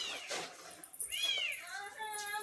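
A cat meows in a few drawn-out, rising and falling cries, close and fairly clear, with a person talking softly around the calls.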